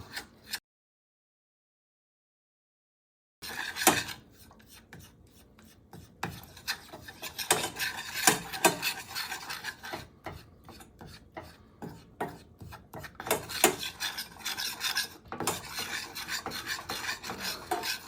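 Potato flour being stirred and scraped in a pot while cooking for a vegan Hungarian goulash, a steady rasping scrape repeating in quick irregular strokes after a brief silent opening, close and fairly loud.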